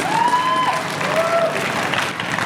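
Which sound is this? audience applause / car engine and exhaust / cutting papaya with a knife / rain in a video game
audience applause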